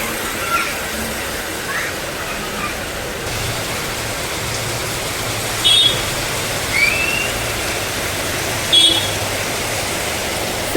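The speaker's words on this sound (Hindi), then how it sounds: "अभी देखो ठंडी ठंडी हवा और एकदम बारिश हो रही है" Rain falls steadily on an evening with a cool breeze, a continuous close hiss broken by a few faint chirps, with no talking.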